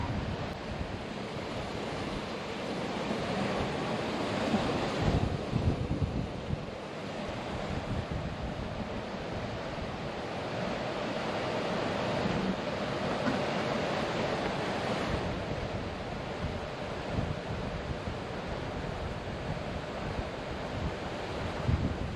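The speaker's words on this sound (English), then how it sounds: "Ooh, it's windy." Continuous wind roars over the mic aboard a yacht between Fulton and Oswego, New York, with steady rolling waves beneath, loud and unbroken throughout, no one speaking.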